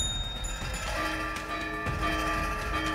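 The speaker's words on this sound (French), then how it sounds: "Les cloches." Bells ring out steadily over a dense background of ambient sound in a French-dubbed historical drama, with clear tonal peals sustained through the stretch and no one speaking.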